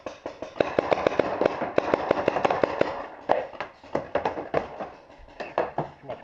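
Paintball guns fire rapid cover fire outdoors during a game, sharp pops coming in quick bursts and then scattered shots, fairly close and fairly loud.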